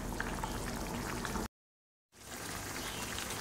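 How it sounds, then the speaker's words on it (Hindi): Mutton karahi bubbles and fries in oil in a pan with a dense, continuous sizzle. A brief dead-silent gap breaks the sound before it resumes just as strongly. "ये जो मीट हमने रखा था पकने ये अच्छे से भुनने लगा है, अभी इस पर भुन रहा है, इस पर ऑयल आने लगा है"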